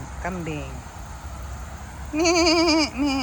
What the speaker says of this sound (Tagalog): Sabi ng kambing.